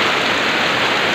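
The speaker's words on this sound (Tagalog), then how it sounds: "bumagsak na naman po ang matinding ulan dito po sa aming lugar sa Quezon City" Heavy rain pours in Quezon City, a dense, even hiss of water falling without break, loud and close, no voices.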